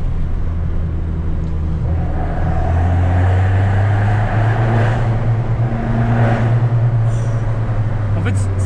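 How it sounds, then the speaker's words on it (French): An Abarth car fitted with a Ragazzon exhaust accelerates through a tunnel. The engine drone is low and steady and rises in pitch as the revs climb, with the sound echoing throughout. "On fait exprès d'accélérer, de relâcher l'accélérateur juste pour avoir le bruit en fait."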